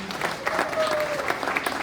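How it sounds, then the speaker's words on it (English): Brief applause from guests at a high school boys soccer alumni social, a short burst of clapping that stays steady for under two seconds. "can we get a round of applause to Spencer and Todd for putting this whole thing together?"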